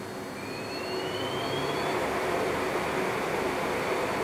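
A Hainbuch lathe chuck spinning at 3,000 RPM on a chuck maintenance test rig gives a steady, dense whooshing roar with a faint high whine, loud, close and unbroken throughout.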